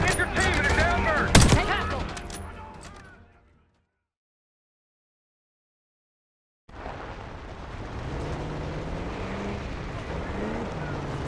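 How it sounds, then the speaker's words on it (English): Gunfire from a Call of Duty Black Ops 6 battle, a dense burst of shots with explosions up front, then a stretch of silence before rumbling combat noise and engine drone return. "We've got gunfire to the right."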